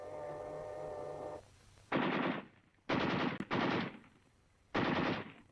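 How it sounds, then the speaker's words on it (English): Four loud, close gunshot bursts from a carbine fired at a tank commander, spaced irregularly, each a sharp crack with a short tail, following a few seconds of low droning hum. "A carbine shot at the tank commander drives him down into the turret."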